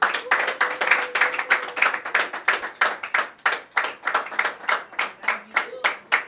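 Audience clapping at a ceremony honouring a colleague, a brisk, closely spaced run of sharp individual hand claps from a small group, steady and moderately loud, with faint voices underneath.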